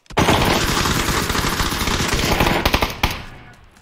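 Rapid automatic gunfire in a video game, with loud bursts of shots and sharper single cracks toward the end, close and dense.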